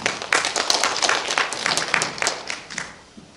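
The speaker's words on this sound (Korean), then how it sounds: "박수로 모시겠습니다" A modest audience at a commemorative academic seminar in Okcheon claps to welcome the next discussant, a few seconds of scattered, fairly quiet clapping that thins out and fades toward the end.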